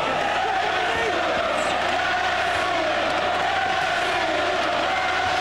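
A boxing arena crowd cheers for Prince Naseem Hamed during his fight with Paul Ingle, a continuous roar of distant fans with scattered shouts and whoops.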